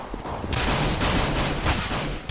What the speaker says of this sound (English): Obi with a great headshot onto Logs